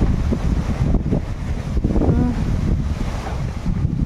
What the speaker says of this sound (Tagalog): Nakakalangga ang hangin, lakas oh.